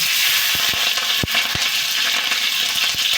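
Green chilies hit hot oil in a pan with mustard seeds and cumin, producing a loud, dense, continuous sizzle close up, punctuated by a few soft thumps and stirring knocks.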